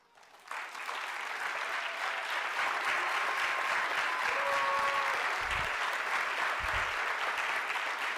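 Audience members at an education talk for the Center for Urban Education break into steady, sustained applause that rises quickly and holds at an even, full level throughout.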